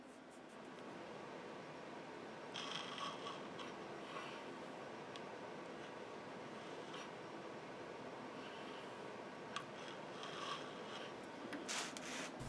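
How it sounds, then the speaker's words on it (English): A metal lathe cutting stock in a workshop while a T-nut is made: a continuous close scraping, grinding hiss with faint intermittent clicks and rattles, no talk. "things are starting to loosen up a little bit on the lathe. And right now it's still cutting pretty well, but it slowly gets worse."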